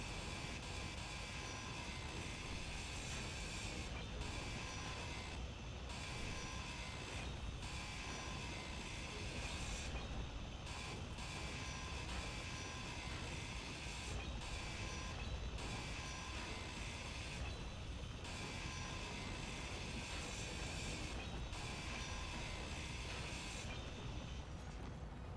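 Blocks being ground down in the video game Space Engineers, a continuous loud harsh grinding whir with steady mechanical rattle running the whole time, broken by a few brief dips, with no talk.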